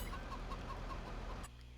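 Several chickens cluck softly in a steady rhythm over a low hum in Farming Simulator, then the sound cuts off abruptly.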